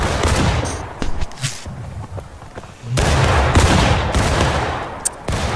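Ragged volleys of musket fire from a Civil War battle in the game War of Rights at Bolivar Heights, a loud burst at the start and a second sustained crackling salvo about halfway through, with distant shots between.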